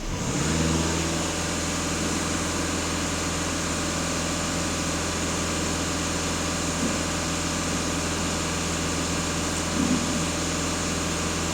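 A VW Passat B8 2.0 TDI diesel engine held at full throttle: a loud, steady droning roar with a constant hum, close by and sustained without talk.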